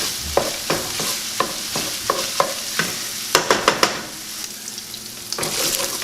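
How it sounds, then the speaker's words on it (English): Sausage browns in its own grease in a pan for sausage gravy, with a steady sizzle and a regular run of scraping stirs close by, ending in a quick cluster of clacks; no one speaks. "Alright, our sausage is browned up nice, so like I said before, do not take out the grease."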